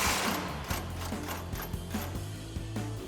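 A hand ratchet turns out a bumper bolt on a 2014-2015 Sierra 1500 pickup, giving steady rapid clicking with small regular knocks, close and moderately quiet over a low mechanical hum.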